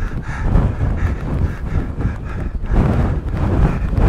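Strong wind buffeting a microphone on a North Pennines hilltop near Watson's Pike, a loud continuous low rumble with gusty surges throughout.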